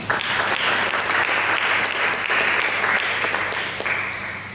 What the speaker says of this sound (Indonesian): Berikan tepuk tangan kepada Tuhan.